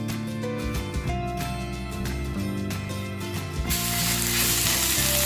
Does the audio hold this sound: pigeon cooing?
no